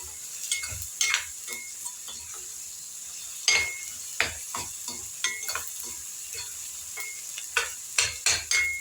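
Prawns frying in a pan for a spicy prawn chutney, with soft continuous sizzling broken by repeated scraping stirs of a spatula against the pan, close and alone.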